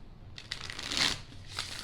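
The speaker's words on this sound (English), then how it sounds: "And shuffle 2 more times." A deck of tarot cards is shuffled close up, a brief riffling rush of papery flutters that swells and fades in under two seconds, with no talking.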